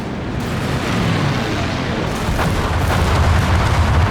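A dive bomb strike in a Company of Heroes 3 two-versus-two match lands as a loud, sustained explosive roar, with thudding blasts and crackling debris building steadily over several seconds.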